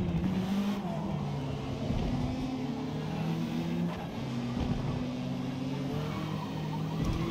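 B-class race cars battle for the lead in the racing video game Forza Motorsport. Several engines drone and whine together with shifting pitch and occasional tire noise, loud and steady throughout.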